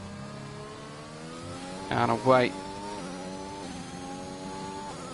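A race car in an online racing-league qualifying session at the French circuit pulls out of the Nord chicane, its engine tone climbing steadily through several gear shifts, while a commentator talks briefly over it.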